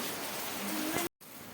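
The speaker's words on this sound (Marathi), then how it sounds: "पाऊस तर खूप भयंकर चालू आहे" Steady, dense rain pours down in a continuous broadband hiss, loud and close, with a brief dropout near the end before the downpour resumes.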